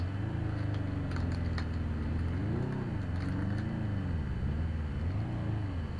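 A video game car engine drones and rises and falls in pitch as it revs and accelerates, with faint clicky keyboard tapping on top.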